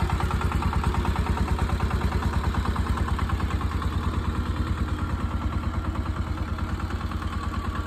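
An ACI-R28 power tiller engine runs steadily nearby, a loud rhythmic low chugging with rapid even pulses and metallic clatter, continuous and without talk.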